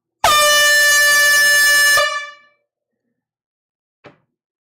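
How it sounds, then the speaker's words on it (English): A single loud air horn blast blares right up close for about two seconds, then cuts off and rings out, followed by a short faint clack. "Here comes the air horn right in your face."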